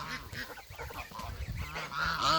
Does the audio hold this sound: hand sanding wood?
no